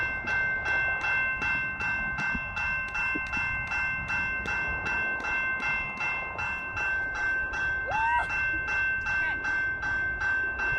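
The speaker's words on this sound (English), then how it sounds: "The bell's just activated!" A railroad crossing bell clangs in a rapid, steady rhythm close by and loud throughout, with a brief whistle-like tone partway through and faint voices in the background.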